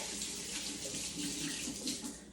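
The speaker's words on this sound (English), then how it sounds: "Wash my hands super quick." Water runs from a kitchen tap while hands are washed during butternut squash risotto preparation, a soft steady splashing hiss with faint fluctuations, quiet and close, with no speech.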